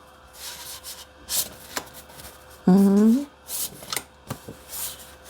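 Sheets of 20 by 20 cm scrapbooking paper rustle and shuffle in brief, close bursts, with a person talking quietly between the handling sounds.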